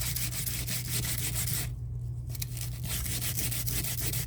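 Hardened resin being rubbed smooth by hand with non-abrasive material, a steady back-and-forth scraping rub close up, briefly pausing midway, with a low constant hum beneath.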